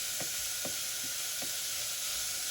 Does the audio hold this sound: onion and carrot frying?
yes